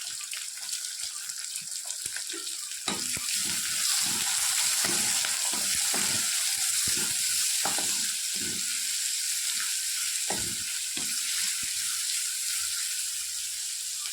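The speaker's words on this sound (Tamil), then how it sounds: "நல்லா வெங்காயம் வதங்கட்டும்" Chopped onion sizzles and fries in hot oil with garlic and dried red chillies for a ridge gourd gravy, a steady bright hiss broken by repeated stirring scrapes and clacks, close and alone with no talk.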